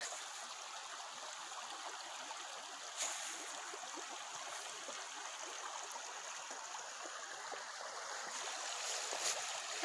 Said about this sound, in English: Here's the brook.